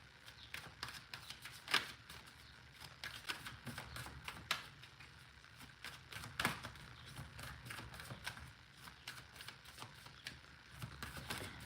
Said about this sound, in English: I want to give it a good shuffle.